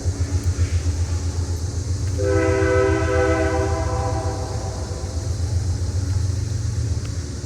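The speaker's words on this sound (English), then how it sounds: "I think there's a train." A train rolls past near an old ironworks site with a steady low rumble throughout, and a loud multi-tone horn sounds for several seconds midway, sustained above the rolling noise before fading.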